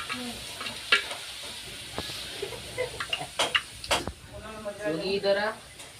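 Star anise and cinnamon drop into hot oil in a pan over a wood-fired chulha and sizzle, with clattering stirs and crackling close by, while someone talks over the frying.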